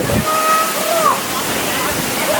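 Bomma Kida falls in Andhra Pradesh, a steady roar of rushing water filling the air, close and continuous, with faint whistles and a brief voice in the background.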